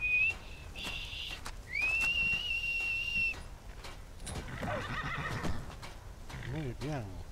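A loud rising whistle sounds twice, followed by a horse whinnying with a wavering neigh, over faint background noise from the modded video game Skyrim and brief speech.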